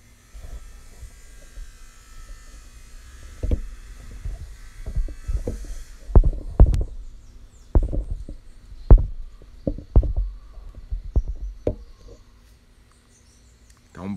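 Irregular metallic knocks and clanks from a metalworker's shop next door, some sharp and loud, scattered over a steady background hum.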